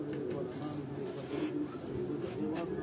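Sialkoti golden pigeons coo softly from a rooftop loft, low rolling calls repeating under nearby conversation, fairly faint and close.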